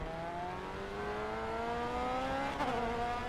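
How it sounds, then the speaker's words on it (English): An open-wheel race car's turbo and engine whine in the racing game Grid Autosport, the pitch rising steadily and then dropping sharply at a gear change, heard up close and continuously. "it definitely sounds like a turbo."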